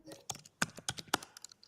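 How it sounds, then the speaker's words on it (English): Fast, irregular clacking of keystrokes on a computer keyboard, picked up close by an open microphone during an online call. "We're getting typing noises from your computer, Alfred."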